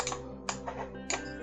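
Keys tapped on a computer keyboard in a few quick clusters of clicks, close and fairly quiet, with a steady electrical hum underneath and no voices.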